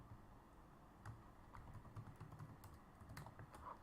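Quick, uneven keystrokes on a computer keyboard tap along at close range for a few seconds, soft clicks scattered over a quiet room hum with no speech.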